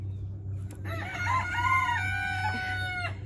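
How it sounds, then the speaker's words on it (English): A rooster crows near a summer garden and goat pen, one loud, clear drawn-out cock-a-doodle-doo lasting about two seconds, rising over a low steady hum, with no voices. "The roosters are saying hello."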